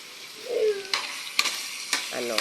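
Sautéed potatoes and carrots for menudo are stirred in a sizzling pan, with a few sharp scraping strokes over a soft, steady frying hiss, close by and without talk.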